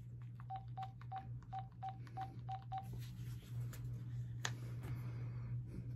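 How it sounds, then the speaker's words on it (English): A quick series of eight touch-tone dialing beeps plays over a steady low hum, followed by quiet line noise. "Pick up the phone, Charles."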